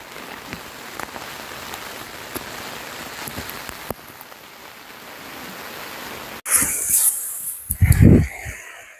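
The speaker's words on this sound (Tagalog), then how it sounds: "hindi naman kami makakalabas gawa ng malakas ang ulan" Steady heavy rain pours down on a campsite, drumming on a surface, before a sudden louder rush and a brief low voice-like sound near the end.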